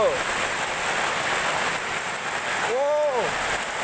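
Heavy rain pours down steadily in strong wind during a midday storm in Yogyakarta, a dense, loud, continuous hiss filling the whole stretch with no voices over it.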